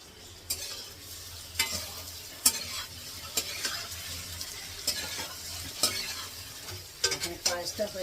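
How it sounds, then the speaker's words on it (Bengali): Paneer frying in a pan for pulao, sizzling steadily while a spatula stirs and scrapes it in repeated sharp knocks spread at irregular intervals. "পোলাওতে দেবো বলে একটু পনির ভেজে নিচ্ছি,"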